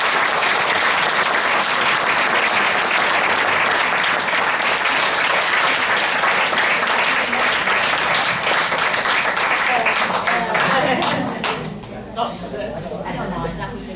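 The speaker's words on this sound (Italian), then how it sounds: "un altro forte applauso." Loud, dense audience applause fills a tenth-anniversary celebration for a health company in Ravenna, sustained for about eleven seconds before thinning out, with a voice starting to speak as it fades.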